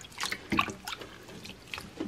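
Garlic scapes are swished and rinsed by hand in a container of water, giving a few close splashes and trickles in irregular bursts with quiet pauses between them.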